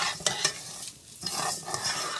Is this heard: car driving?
no